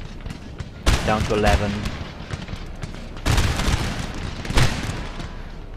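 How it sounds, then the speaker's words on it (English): Musket and artillery fire in a Napoleon: Total War battle: rolling volleys and booming cracks arrive in a few loud clusters, with someone talking over them. "Plenty of units starting to fire now on the enemy."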